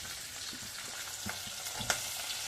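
Garlic kebab frying in a pan before tomato goes in: a steady, close sizzle with soft scraping stir strokes and a few louder pops, with no one talking.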